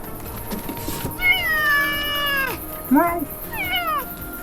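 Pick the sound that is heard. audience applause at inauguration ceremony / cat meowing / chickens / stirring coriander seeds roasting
cat meowing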